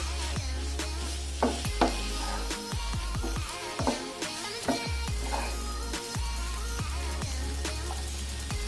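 Ground spices, including chilli powder and kitchen king masala, being stirred together in a frying pan give a continuous close sizzle, broken by repeated sharp scrapes and knocks of the spoon against the pan.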